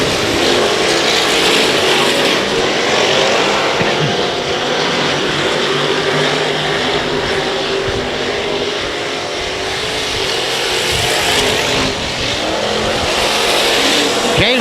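Race cars roar around the Heart O Texas Speedway oval, a loud continuous wall of engine noise that swells and dips slightly as the pack runs three wide through turn 2, with no talk over it.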